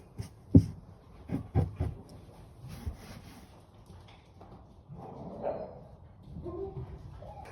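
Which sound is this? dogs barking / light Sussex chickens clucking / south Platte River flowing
dogs barking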